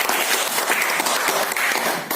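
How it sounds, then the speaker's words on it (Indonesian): A room full of people applauding, dense steady clapping throughout at close range, loud and continuous with no talking. "tepuk tangan untuk kelompok 3"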